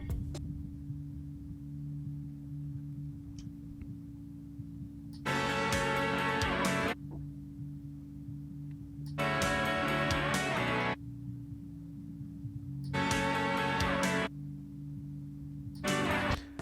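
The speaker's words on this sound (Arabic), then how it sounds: "ده جزء من المادنس في البيس فريكونسي" A muddy, soloed bass band from a music mix, run through a FabFilter Pro-Q 3 equalizer, giving a steady low hum broken by three or four muffled, thudding bursts of filtered music.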